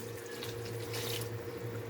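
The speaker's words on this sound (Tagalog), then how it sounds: "Lagyan na natin ng tubig." Water runs steadily into a cooking pot for a chicken mechado stew, a soft continuous splashing pour with a low hum underneath.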